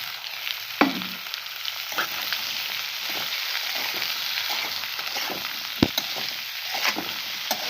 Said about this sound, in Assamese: এইফালে মাছ ফ্ৰাই কৰা তেলখিনিতে আৰু অকণমান তেল দি পিঁয়াজ ভাজি আছোঁ।